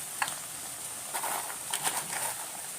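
Onions frying in a pan while a home lunch is cooked, a soft steady sizzle with faint stirring clatters, low and continuous with no talk.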